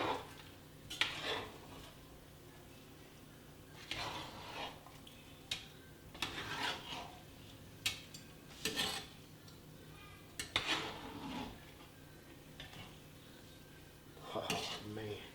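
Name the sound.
folding rice in a pot of jambalaya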